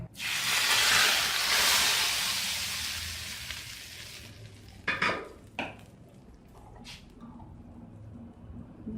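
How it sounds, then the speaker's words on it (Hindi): Hot oil sizzles loudly at first as spices are tempered for kadhi pakora, a bright hiss that gradually fades, followed by a few sharp clinks of a utensil against a pan. "इसके ऊपर तड़का लगा दें।"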